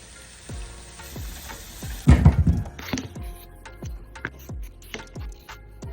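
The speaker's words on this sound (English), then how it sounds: "I made a quick pepper sauce by frying onion in palm oil" Steady sizzling of onion frying in hot palm oil, crackling close up with a few louder spatters and stirring scrapes partway through.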